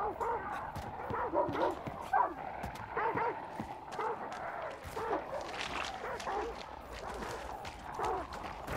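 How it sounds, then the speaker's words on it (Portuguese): A dog barks in the Hunt: Showdown video game, sharp repeated yaps and whimpers scattered through the stretch, moderately near, with game ambience behind. "Eu não sei se foi pra gente que esse cachorro latiu."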